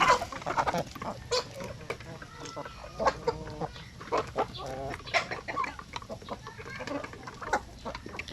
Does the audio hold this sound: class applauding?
no